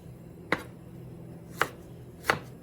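A knife dices jalapeno on a cutting board with three sharp, separate chops spaced about a second apart, close and crisp in an otherwise quiet kitchen.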